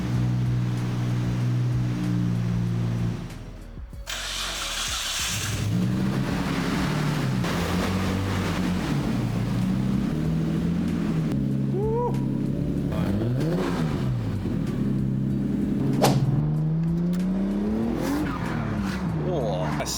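A Nissan Skyline fitted with a bigger turbo and full exhaust rumbles and revs nearby, its engine pitch rising and falling through repeated blips, with people talking over it.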